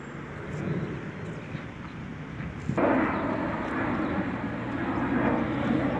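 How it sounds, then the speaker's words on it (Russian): An airplane passes over a park in Tbilisi on the flight path near the airport, heard as a steady, broad, distant roar that swells a little partway through and carries on without any voices. "Самолет здесь у нас проходит, воздушная линия."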